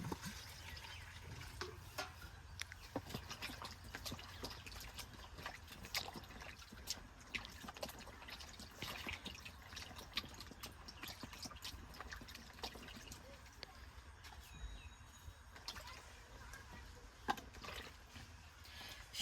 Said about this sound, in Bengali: আলুগুনা ফটফটা করে ধুয়ে নই আগে।